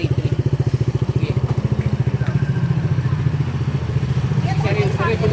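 Motorcycle fitted with a modified TSMP S2.5 power pipe muffler, revved during a roadside noise-regulation check in Makati City. A loud, close, rapid pulsing exhaust idles, then rises in a sustained rev, with faint voices in the background.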